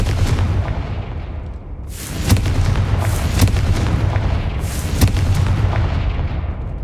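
Confringo fire spell explosions in the video game Hogwarts Legacy, loud booming blasts with sharp cracks that land twice over a dense, continuous rumble of game noise.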